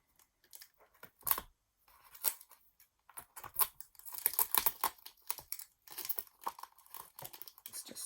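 Scissors trimming tape along the edge of a journal cover, a series of short close snips and crinkly tape handling with quiet pauses between, no talking.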